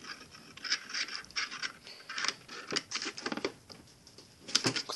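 Facom socket bits snapping and clicking onto a ratchet from a tool case, a quiet close-up run of sharp metallic clicks and small scrapes in irregular clusters, with no talking.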